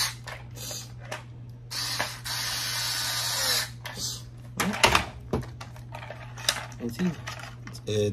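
A power driver runs in short bursts, driving screws into a plastic WWE Wrekkin toy forklift, with one longer steady whir and clicks of plastic parts in between, close up while someone talks.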